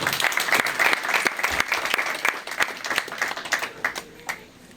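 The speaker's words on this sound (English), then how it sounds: "let's give a big round of applause" Audience applause at a community promotion celebration, a burst of individual claps that swells early and then gradually thins and tapers off toward the end.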